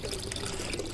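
Water pours and trickles steadily in a recirculating deep water culture hydroponic waterfall setup, a continuous close splashing flow with no talk over it.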